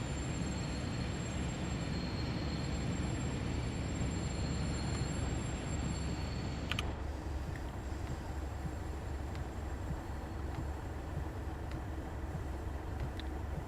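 Class 37 diesel locomotive in a train simulator game, a steady close rumble of running gear and engine with a faint high whine, continuous throughout, no talk.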